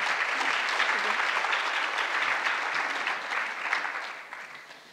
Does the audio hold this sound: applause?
yes